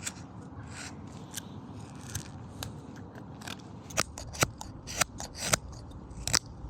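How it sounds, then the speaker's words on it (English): Knife blade whittling a small wooden rabbit, with soft scraping strokes giving way to a run of sharp, close cutting snicks in the second half, no voices. "I'm cutting in a pattern like this"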